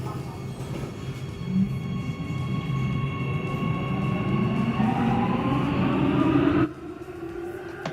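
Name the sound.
Warsaw Metro train riding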